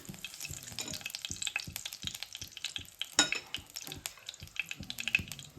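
Carom seeds (ajwain) crackling and popping in hot oil, a soft steady sizzle with scattered sharp pops and occasional clinks of a spoon against the pan.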